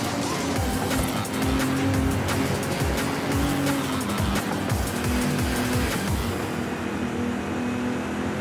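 A car in the racing video game Forza Horizon 5 drives hard with a steady loud engine roar, shifting pitch and tire squeal along a straight run, close and alone without speech.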